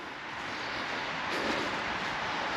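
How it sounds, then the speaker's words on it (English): A steady, broadband rumble of distant traffic drones on without pause, fairly faint, with no voices. "You can probably hear the road in the background."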